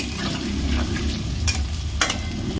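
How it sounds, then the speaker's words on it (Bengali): Steady sizzling and crackling of onions frying in hot oil, with occasional scraping stirs against the pan and no talking. "নিয়ে তারপর পেঁয়াজ ভাজবো"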